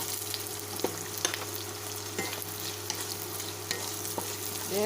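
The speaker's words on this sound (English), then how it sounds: "This is now the hot oil with garlic, onions, and we will add our celery." Celery sautéing with garlic and onions in hot oil, a constant close sizzle broken by several light clicks of stirring at irregular intervals, with no voices.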